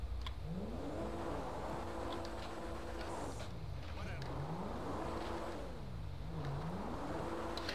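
Comet sports car in GTA 5 revving and accelerating through repeated gear changes, engine pitch climbing, dropping and climbing again in a steady loop, loud and close throughout.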